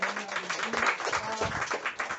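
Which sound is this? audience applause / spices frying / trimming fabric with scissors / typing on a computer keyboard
audience applause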